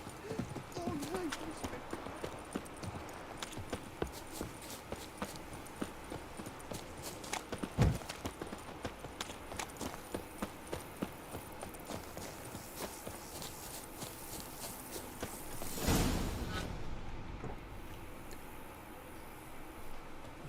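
Horse hooves clip-clop at a steady walking pace in The Witcher 3: Wild Hunt, a fairly quiet, continuous rhythm that carries on for about twenty seconds under game ambience, with a brief louder whoosh midway.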